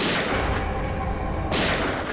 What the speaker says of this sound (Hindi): ये गोलियों की आवाज